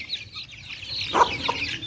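Laying hens and chicks cluck softly while pecking at mealworms, with a brief louder cluck near the middle over a low background hiss.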